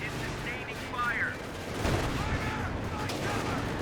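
Rifle and machine-gun fire crackles around a fighting position in Company of Heroes, a steady stream of shots and distant booms running the whole time beneath in-game voice callouts.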